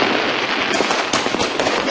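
Diwali fireworks explode in a dense, continuous barrage across Delhi, a loud, close roar of overlapping bangs and crackles with no gaps.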